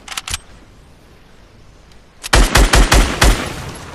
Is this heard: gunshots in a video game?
yes